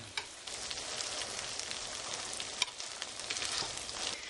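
Hash browns, pressed thin and flat, sizzle in a pan over a medium flame: a steady, close hiss of frying with a few small pops and scrapes, and no voices.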